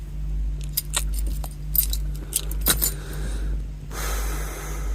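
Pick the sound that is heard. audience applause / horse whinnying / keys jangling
keys jangling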